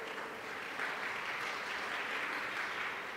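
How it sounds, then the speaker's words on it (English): Conference audience at a women's leadership event gives a soft, steady round of applause heard from a distance, continuous throughout with no speech. "Round of applause."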